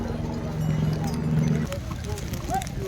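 Horse hooves clop along a muddy mountain path on the trek to Kedarnath, a steady plodding rhythm with a droning tone early on, while people talk nearby.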